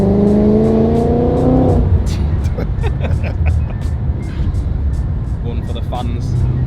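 An 800 BHP supercharged Ford Mustang engine revs loudly up close with the top down, a rising rev in the first two seconds before it settles into a steady, rumbling idle. People talk over it.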